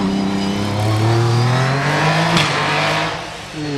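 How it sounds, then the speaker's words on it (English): A Jaguar-engined OMS 28 hillclimb race car at Loton Park drives hard, its engine rising steadily in pitch as it accelerates before easing off near the end, a loud, continuous sonorous note heard alone. "the sonorous Jaguar-engined OMS 28"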